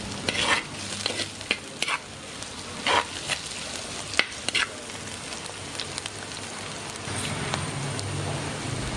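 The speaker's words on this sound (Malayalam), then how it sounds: "ഇനി കുടംപുളിയും കൂടെ ചേർത്ത് നന്നായിട്ടൊന്ന് വഴറ്റിയെടുക്കാം" Kudampuli (Malabar tamarind) is stirred and sautéed into a thick curry base for a tuna fish curry, giving a low sizzle with repeated loud scraping strokes of a spoon against the pan.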